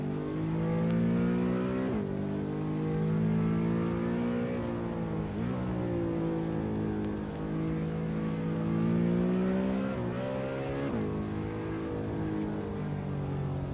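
Racing car engine in Assetto Corsa, a continuous loud whine that rises through the gears, with short dips at each shift and the revs climbing again, steady and close with no talk.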